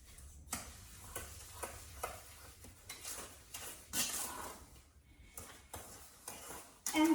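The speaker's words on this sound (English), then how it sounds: "And as we stir, you'll see that it gets all mixed in here." Sugar being stirred into a mixture, with a spoon scraping and tapping the bowl in an irregular rhythm of soft clinks and swishes, close and fairly quiet with no talking.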